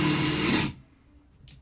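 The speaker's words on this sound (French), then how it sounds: "on va attaquer le perçage sur le parpaing, même technique, j'enlève la percussion" A Ryobi One+ HP RPD18C cordless drill boring into cinder block with hammer mode switched off, heard as a loud, steady whir and grind up close that stops abruptly after about 0.7 seconds, leaving near silence.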